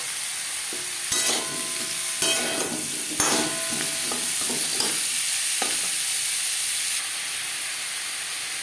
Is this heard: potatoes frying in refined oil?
yes